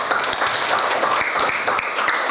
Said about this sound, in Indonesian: Tepuk tangan dulu untuk Dela.